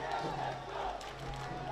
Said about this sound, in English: they continue to get more vocal because they know they have the opportunity to go 10 points ahead